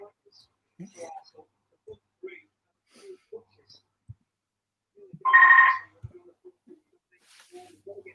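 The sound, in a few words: telephone ringing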